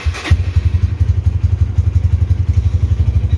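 A Honda Tiger Revolution GL200 motorcycle engine with a little choke applied cranks and catches, then settles into a steady, loud, close thumping idle with an even beat.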